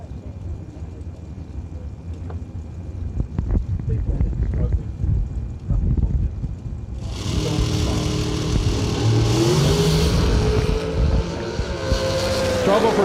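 A dragster launches off the starting line at a drag race and immediately runs into trouble. A loud engine roar bursts in about halfway through and stays close and intense, with rising revs, while a voice talks over it.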